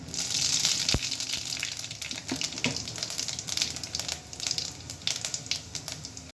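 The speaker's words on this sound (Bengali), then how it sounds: "তেল গরম হয়ে গেছে, আমি ফোড়ন দিলাম 5 ফোড়ন।" Five-spice tempering hits hot mustard oil and hisses in a steady, loud sizzle close by, spitting with small crackles throughout.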